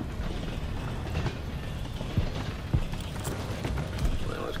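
Moving train in Call of Duty Vanguard, a steady rumbling rattle with occasional clanks and mechanical creaks, heard close and continuous.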